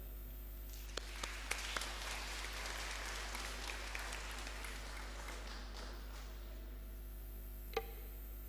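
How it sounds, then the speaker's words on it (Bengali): Soft applause from a church congregation at a Silver Jubilee Mass honouring a priest's ordination, a steady distant patter of many hands swelling and then fading, with a few sharper claps near the end. "আমরা একটা হাততালি দিতে পারি"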